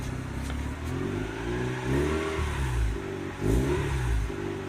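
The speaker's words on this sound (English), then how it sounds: "You can give us a little mini rev before we take it out. Here's a mini rev." A Mazda RX-8 fitted with a newly installed exhaust revs in short blips, the engine note rising and falling several times, loud and close with no talking.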